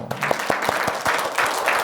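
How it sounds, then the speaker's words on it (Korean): A congregation applauding steadily at a Sunday church service, dense overlapping claps filling the room, loud and sustained throughout. "박수 한번 보내주세요."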